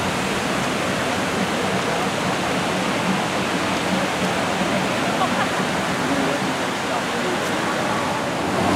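Steady, full roar of a waterfall pouring down in Millenium Park, a constant broadband wash with no breaks, close and loud throughout.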